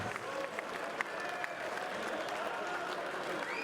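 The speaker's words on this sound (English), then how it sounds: "could we please have a big round of applause for both of our boxers" Audience applause for two boxers at the end of a four-round boxing fight, a steady wash of clapping from a crowd in a fight hall, moderately quiet and even throughout with faint crowd noise and some voices underneath.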